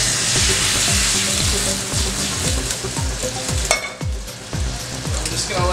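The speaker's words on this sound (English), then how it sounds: "Gonna let it simmer lightly." A reduction sauce for sweet drunk pork made with Quebec ice cider bubbles and sizzles in a pan, a loud, close, steady frying hiss under a pulsing low rumble with occasional sharper crackles.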